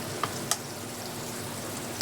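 Ground masala paste sautés in hot oil with a soft, steady sizzle, broken by a few sharp clicks of a spoon stirring against the pan, close and fairly quiet.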